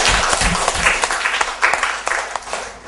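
A classroom of young students applauds together, dense hand clapping that stays steady and fairly loud for the whole stretch, with no talking.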